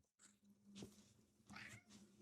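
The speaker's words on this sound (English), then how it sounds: "I hope you guys could hear that, but he is meowing." A pet cat named Beans meows very faintly two or three times, drawn-out, quiet calls close to a microphone in a quiet room.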